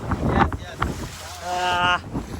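A small boat on the sea near Nivati Lighthouse on the Konkan coast, slamming against waves with a few hard thuds, then a rising engine whine under wind noise and faint voices.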